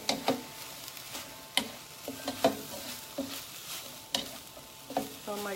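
Beef and broccoli stir-frying in a pan: a steady sizzle broken by repeated sharp scrapes and clacks of stirring, each a few seconds apart, close and moderately loud, with no talking.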